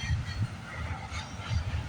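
A CN freight train rolls past at a distance, a low, steady rumble with faint rhythmic wheel thumps and no talk over it.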